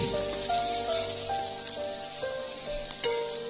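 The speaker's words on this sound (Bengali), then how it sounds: "পেঁয়াজ আর লঙ্কা কুচি আমরা এখন ভেজে নেব আলুতে মিক্স করার জন্য।" Chopped onions and green chillies sizzle steadily in hot oil in a pan, a close, continuous frying hiss with faint scraping underneath, no voices.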